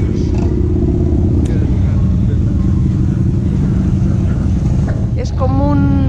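A huge Honda Gold Wing touring motorcycle's engine runs with a steady, deep, loud harmonic drone at a nighttime Pingüinos 2019 bike rally in Valladolid, with voices and crowd noise mixed in.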